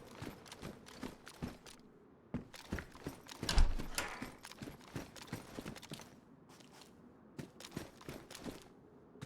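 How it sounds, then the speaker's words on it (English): Footsteps on a changing ground surface in the survival game Basically Vanilla, a steady run of light, quick steps with faint mechanical clicks, heard alone at a moderate distance. "I'm not sure if I just heard my footsteps on different ground"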